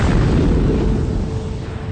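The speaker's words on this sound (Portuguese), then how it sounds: "uma estrela fecha as portas, como uma supernova. Isso significa que elas explodem" A supernova explosion sound effect: a sustained, dense, loud rumbling blast with heavy low end that fades slightly over about two seconds.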